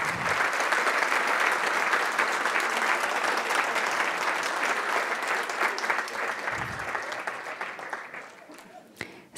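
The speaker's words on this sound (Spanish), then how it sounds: "Demos un aplauso de felicitación a los nuevos doctores del área de ingeniería." Sustained, dense applause from a large audience at a university doctoral graduation ceremony for new engineering doctors, loud and even for most of its length before thinning out and fading near the end.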